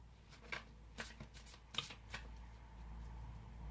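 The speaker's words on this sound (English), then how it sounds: "I'm going to draw one card from the Ascended Masters." Cards from an Ascended Masters oracle deck are handled quietly, giving several soft, papery flicks and slides in an uneven rhythm close by.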